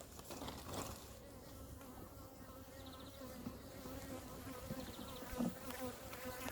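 Honeybees humming steadily around a beehive being given foundation comb frames, a soft continuous buzz with no talking.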